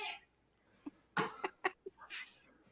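Pet bird squawking indoors, a handful of short harsh cries in an uneven burst, fairly close and moderately loud with quiet gaps between them.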